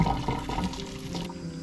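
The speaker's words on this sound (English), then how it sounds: "I'm going to pour it over the meat and try and drain off more of that fat." Freshly boiled kettle water is poured over minced meat in a sink to wash off fat, a close splashing gush that starts strong and then trickles and drains away.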